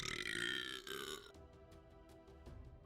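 Malekith, a dark elf character in the video game Total War: Warhammer, lets out a drawn-out burp that fades into quieter game sounds with faint regular ticks.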